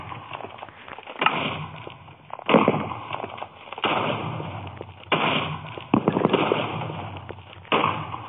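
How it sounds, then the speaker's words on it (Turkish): Explosions from exploding arrows fired by a skeleton in modded Minecraft PE survival, a series of loud, close booms arriving every second or so, each with a rumbling tail, and no talk over them. "Artık iskeletle patlatan ok atıyor arkadaşlar."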